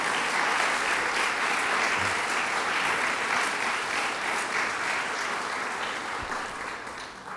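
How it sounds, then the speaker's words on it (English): A crowd applauds at a governor's signing of a medical marijuana bill in New York, a thick, sustained wash of clapping that stays strong before easing slightly toward the end. "Let's give them one more round of applause for their good work."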